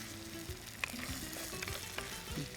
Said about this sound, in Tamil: எண்ணெய் சூடாகிடுச்சு. இதில் சோம்பு, கருவேப்பிலை, வெங்காயம் போட்டு நல்லா வதக்குவோங்க.